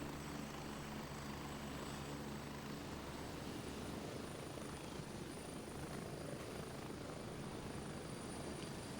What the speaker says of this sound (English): Where's this heli going, though?